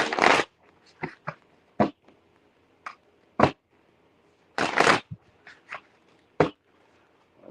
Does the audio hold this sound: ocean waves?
no